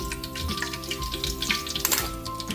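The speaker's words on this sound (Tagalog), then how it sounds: "Luto na tayo ng ating fried chicken." Chicken frying in hot oil, a steady crackling sizzle that runs throughout, with music playing softly underneath.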